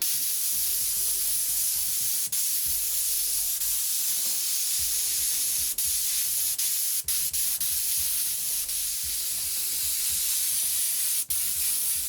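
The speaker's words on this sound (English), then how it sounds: "we'll just go in here now and we'll spray these all in black." An airbrush sprays black paint in a steady, continuous hiss that holds evenly from start to finish, with only a few tiny clicks and breaks and no one talking.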